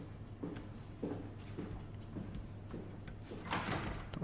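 Repeated soft clunks of a locked door being tried in the horror game Soma, spaced unevenly over a constant low hum, ending in a brighter, louder rattle.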